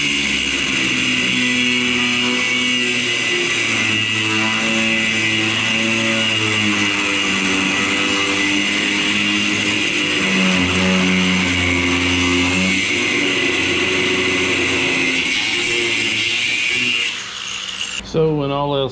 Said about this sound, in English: I've been trying to drive it from the bottom using my little air hammer rig.